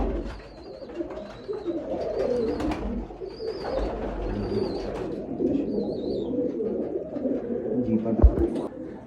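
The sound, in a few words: pigeons cooing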